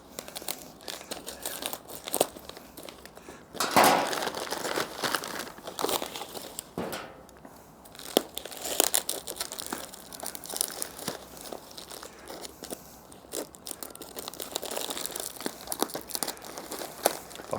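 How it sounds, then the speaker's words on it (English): Paper wrapping on a plant package from a nursery being unwrapped, with steady crinkling and crumpling close by, broken by sharper tearing bursts throughout, and no talk. "So let's open up the paper package first."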